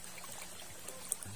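Cold fresh spring water pours and splashes in an outdoor bathing spot, a soft steady stream with a brief louder splash near the end, heard alone.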